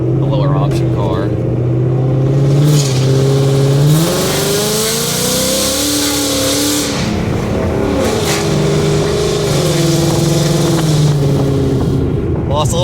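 A Ford Mustang GT 5.0 accelerates hard and briefly loses a little traction. Its engine revs climb and drop across several gear changes, loud and close, with a continuous mechanical roar throughout.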